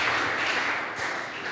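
A brief burst of steady audience clapping in a presentation room, a dense patter of many hands at moderate volume.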